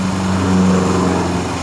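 A Honda Beat scooter engine revs up steadily, close and loud, with a smooth running tone and no talking.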